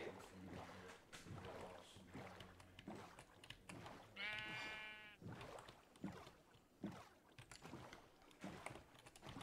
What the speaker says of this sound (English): I have a sheep